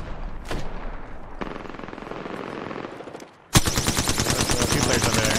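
Rapid bursts of automatic gunfire from a rival team in a video game shooter, fired from a distance, start suddenly about halfway through and stay loud and dense, following quieter game noise.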